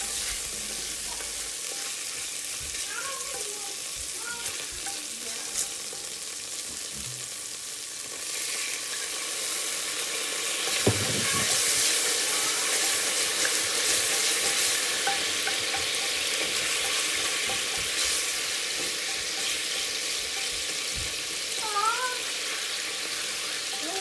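Spices being sautéed and stirred around a pan for beef noodle soup, a steady broadband frying hiss with occasional utensil scrapes, moderately loud throughout with no talking.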